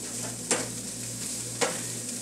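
Fresh thyme and other herbs sizzle gently in a pan for a glazed meatloaf, a soft steady hiss with two brief stirring scrapes near the middle and end.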